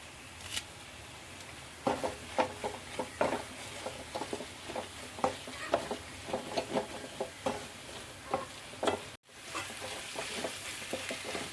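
Masala, curry leaves and pepper frying in a pan for a chicken parts curry, a steady low sizzle with repeated stirring scrapes and taps, close and fairly quiet, with no talking.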